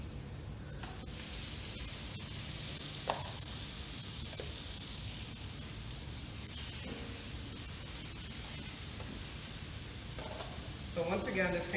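Salmon sizzling in a very hot pan, a steady close frying hiss that runs throughout with a few small clinks and stirring sounds over it.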